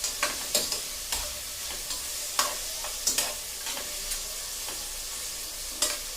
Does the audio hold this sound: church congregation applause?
no